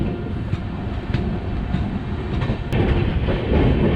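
The Patna Tejas Rajdhani Express passes close by, its loud, steady rumble and rhythmic wheel clatter building slightly toward the end.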